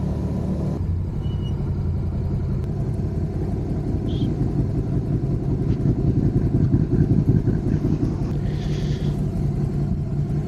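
A motorcycle rides a West Auckland road scattered with loose gravel, twigs and dirt, its engine giving a steady, loud rumble throughout, with no talking.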